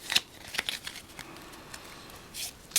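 Quiet, scattered riffling and flicking of playing cards being shuffled, with short bursts of crisp snaps against a soft background.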